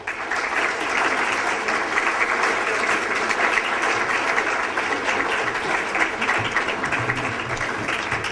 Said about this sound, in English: Let's give a special round of applause for these young adults.